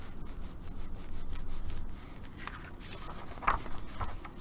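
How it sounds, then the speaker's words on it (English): Paper in a handmade Valentine mini album is burnished with quick, rhythmic rubbing strokes that are close and soft, followed by quieter scraping and a small tap. "Go ahead and burnish that."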